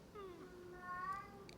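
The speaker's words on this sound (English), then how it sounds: "Oh, my poor little cat stuck outside." A cat stuck outside meows in a couple of drawn-out, rising and falling cries, heard at moderate loudness with a faint distance to them and no voices over them.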